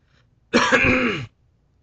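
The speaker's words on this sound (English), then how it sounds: "I've been coughing ever since." A single short, raspy throat clearing with a cough-like burst, close to the microphone, surrounded by silence.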